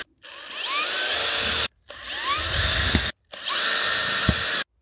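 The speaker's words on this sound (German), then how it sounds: "mit einem ganz kleinen Bohrer hier durch unsere Folie bei allen Löchern durchbohren" A small power drill bores through the foil liner of an above-ground frame pool for a built-in skimmer, running loudly in three steady bursts with short pauses between them.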